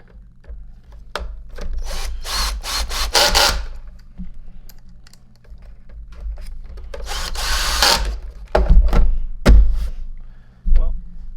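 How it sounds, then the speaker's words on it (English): Power drill driving the final two screws into the lid of a Miele S5 Capricorn canister vacuum cleaner, two loud close whirring bursts followed by clicks and handling knocks. "So that means I can now put those final 2 screws in the lid"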